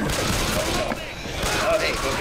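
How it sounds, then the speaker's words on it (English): Gunfire in Left 4 Dead 2 crackles in dense bursts throughout, mixed with game noise and speech-like chatter in the background. "Walk while I'm shooting."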